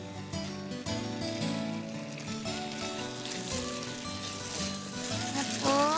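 Chicken goes back into a pan and fries in a thick honey garlic sauce, sizzling and crackling steadily up close over continuous background music.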